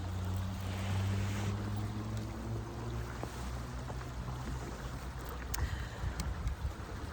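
Water waves wash and lap nearby in a steady, broad outdoor rush with a low rumble underneath and brief brighter splashes near the end; no one speaks.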